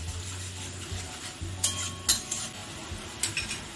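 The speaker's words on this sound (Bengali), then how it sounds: "এই টমেটো পিউরি যেটা রেখেছি সেটা ফেলে দিচ্ছি। এবারে এটাকে খুব ভালোভাবে ভাজতে হবে।" Tomato puree frying in a pan for dal makhani, a soft sizzle under scraping and clinking of a spatula against the pan in a few sharp strokes over a low hum, no voices.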